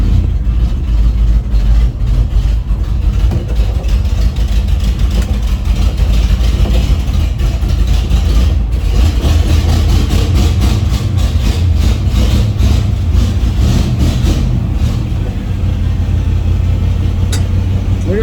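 Engine of a rare Squarebody GMC truck running rough and loaded up with fuel, a loud continuous low rumble with uneven pulsing throughout, close by, with faint voices mixed in.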